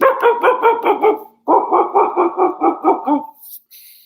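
A man imitates a dog barking, giving a quick run of loud, close, rhythmic yaps with a brief pause midway, ending in a short whimper-like tail.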